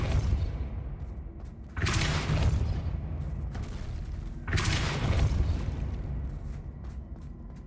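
Depulso spell impacts in the Hogwarts Legacy video game: two heavy booming blasts a few seconds apart, each a loud rumbling burst over low background game sound.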